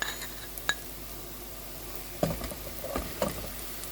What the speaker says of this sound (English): With the same pan, let's fry our prepared onion.